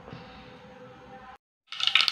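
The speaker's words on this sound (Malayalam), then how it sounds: "കടു നല്ലപോലെ പൊട്ടുന്നുണ്ട്" Mustard seeds crackling and popping in hot oil in a pan, a burst of sharp, dense pops that starts abruptly and grows louder after a quieter stretch of low sizzle and a brief pause.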